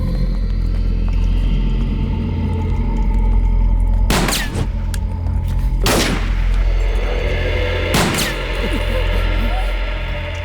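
Gunshots in a dubbed South Indian zombie action film, three sharp loud cracks a couple of seconds apart over a steady rumbling background.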